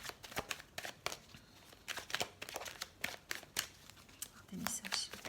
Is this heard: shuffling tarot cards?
yes